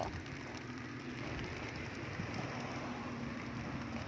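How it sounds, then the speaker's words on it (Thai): Rain falls steadily around a buffalo pen in the evening, a soft even patter and hiss spread across the whole moment, with a low faint hum underneath and no voices. "ฝนตกแล้ว"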